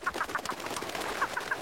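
A bird-call whistle blown softly gives short, repeated chirping notes in two small bursts, light and twittering like a small bird.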